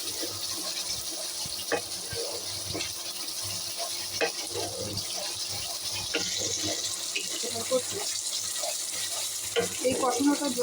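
Potatoes with turmeric frying and being stirred in a pan for aloo dum, a steady close sizzle with scattered spoon scrapes and clinks throughout.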